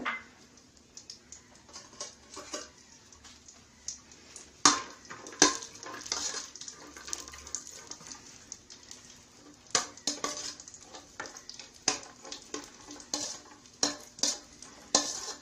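Cashew nuts and raisins fry in a teaspoon of ghee while a spoon stirs, making frequent sharp clinks and scrapes against the pan over a faint low sizzle, close and without talk.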